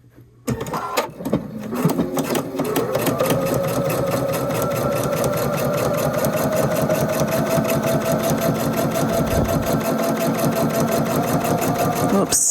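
A Pfaff sewing machine stitches a rail fence quilt block, starting with a few short bursts and then running in one long, steady, close whir with a fast mechanical rhythm, with someone talking briefly near the start.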